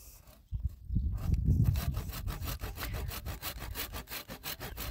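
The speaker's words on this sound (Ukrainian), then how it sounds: "Будемо зрізати все пилкою." A hand saw cuts through a thick grafting rootstock during tree budding, with steady, rapid back-and-forth rasping strokes up close that follow a brief scrape and handling at the start.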